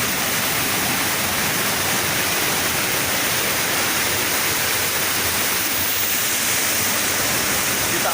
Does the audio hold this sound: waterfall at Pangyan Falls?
yes